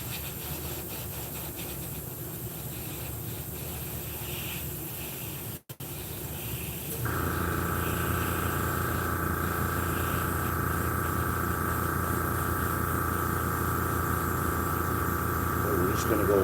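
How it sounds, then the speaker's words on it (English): An airbrush lays a light coat of desert pink paint over a figure, its steady airy hiss starting partway through and holding evenly while a person talks over it. "I'm going to cover the entire thing with desert pink, a light spray"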